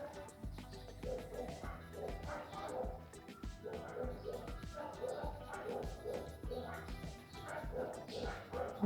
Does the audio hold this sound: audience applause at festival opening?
no